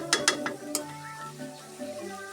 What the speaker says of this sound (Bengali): মশলা কষানো প্রায় শেষের দিকে।